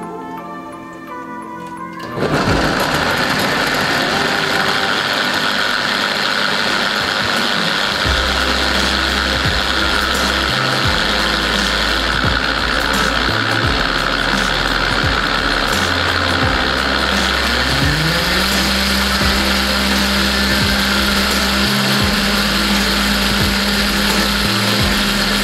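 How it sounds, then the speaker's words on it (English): A blender whirs to life after a brief quiet moment, then runs loud and steady with a high whine and grinding motor tone. "And start up my blender."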